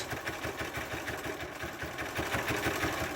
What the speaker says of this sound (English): I'm going to stitch right along that edge